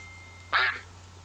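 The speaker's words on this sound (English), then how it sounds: "It's sort of a quacking sound." A duck gives a single short, nasal quack midway through, set against a quiet background with a faint steady hum.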